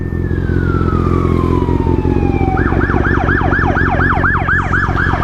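Police car sirens passing on a city street, loud and close: a long falling wail gives way to a rapid, rhythmic yelp that repeats steadily over the constant rumble of traffic.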